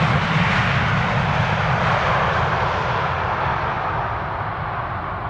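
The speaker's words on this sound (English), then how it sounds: "Typical KLM landing." A KLM airliner in the 100-years livery lands at Amsterdam Schiphol, a loud, steady broadband jet roar that holds for several seconds and fades slightly toward the end, with no voices.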